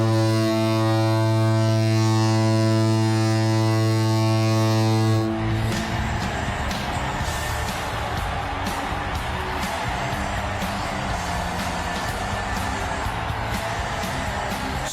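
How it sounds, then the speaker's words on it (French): A deep, sustained Seattle Kraken NHL goal siren blares loud and steady for about five seconds, then gives way to a roaring, cheering arena crowd. "Sirène de but, pas trop longue,"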